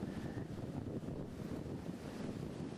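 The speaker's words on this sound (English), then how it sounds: "In this early spring day, kind of windy and cool, but most enjoyable out here along the beaches of Lake Erie" Wind-driven waves wash onto a Lake Erie beach at Dunkirk on a cool early spring day, a constant rushing surf blended with gusty wind buffeting the microphone, fairly soft and with no speech.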